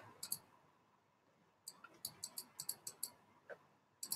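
Computer mouse clicking in close, crisp single clicks: a pair near the start, then a quick rhythmic run of about eight clicks, and a final double click, all alone without talk.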